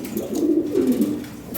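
Lahori Sirazi pigeon, a foreign-bloodline bird, cooing close by in a soft, steady rolling murmur that swells and dips over a second and a half with no one speaking.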